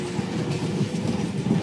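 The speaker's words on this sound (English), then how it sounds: "We just got off this train." A passenger train in Japan rumbles loudly and close by, with a steady rhythmic clatter of wheels on rails and no voices.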